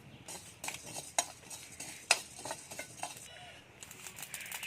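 Whole coriander seeds, cumin and dried red chillies are stirred in a dry wok over a village stove, a utensil scraping and clinking against the metal with a couple of sharper knocks, faint and close, with a light sizzle.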